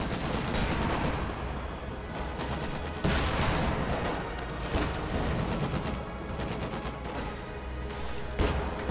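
Rapid gunfire and booming Raketenwerfer rocket impacts from a World War II tank video game, with a Puma armored car battling an Easy 8 Sherman; dense, continuous loud bursts with sharper blasts near 3 and 8.5 seconds.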